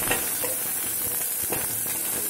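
Onions sizzle in hot oil tempered with chillies, mustard seeds and cumin for a South Indian buttermilk rasam. A steady, close, hissing fry runs throughout with light stirring scrapes.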